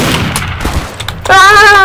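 Gunfire in the sandbox game Garry's Mod, a few loud close cracks and thumps over about a second, then a sudden sustained whining tone cuts in.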